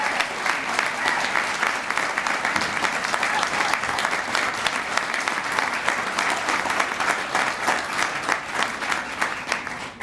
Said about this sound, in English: Let's give a great round of applause for Ann Morgan.